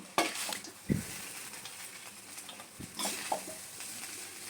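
Cooked cauliflower and pea curry for singara filling scraped and poured from a pan onto a plate, with soft sizzling, a few sharp metallic scrapes and knocks, and quiet stirring.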